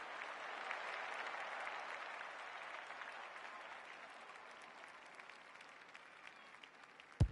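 Crowd at an Australian football match applauds and cheers loudly as a kick goes through, a dense roar of clapping that slowly tapers off over several seconds.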